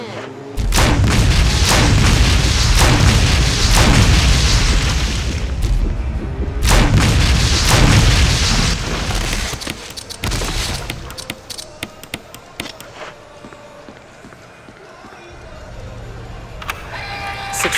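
Incendiary grenade rounds fired in Resident Evil HD Remastered, a series of heavy booming blasts with roaring fire for several seconds, loud and close, then fading to quieter game noise and scattered thuds.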